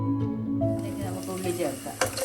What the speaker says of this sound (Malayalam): 1/2 ടീസ്പൂൺ പെരുംജീരകം ഇട്ടൊന്ന് പൊട്ടിക്കാം.